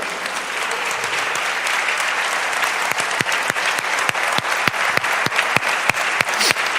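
A church congregation claps together during a Spanish-language service, a steady, dense wave of applause with sharper individual claps standing out toward the end, loud and close, with no talking over it.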